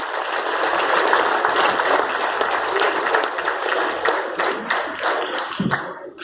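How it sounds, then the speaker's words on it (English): Audience at a rural IT quiz applauding the finalists, sustained loud clapping from a large hall that thins out toward the end, with a few scattered claps and a brief voice at the close. "can we have a round of applause for both of you?"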